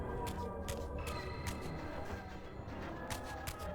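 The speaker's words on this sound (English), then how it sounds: "That music sounds really messed up." Distorted, cacophonous background music from the video game Soul Reaver 2 in the Dark Forge, a dense muddy wash with faint repeating bright clicks, playing alone at moderate level without talk.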